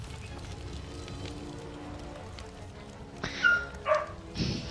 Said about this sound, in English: See? Neighbor's dog.